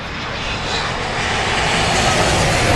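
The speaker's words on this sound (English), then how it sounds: "No, that was a Dreamliner." A Boeing Dreamliner jet airliner roars overhead at an airport viewing spot, a loud broadband rush that swells steadily over a few seconds.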